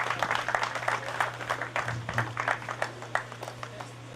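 An audience at the HIFA Cross River event in Calabar, 2019, applauds with a steady patter of many hands clapping, moderately loud over a low steady hum, fading slightly toward the end.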